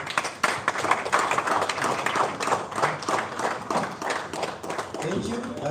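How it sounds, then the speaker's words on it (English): Audience at the Pan African Pyramid Awards ceremony giving a round of applause, a steady bed of many hands clapping at moderate loudness, with a voice speaking over it throughout. "ladies and gentlemen, give a big round of applause."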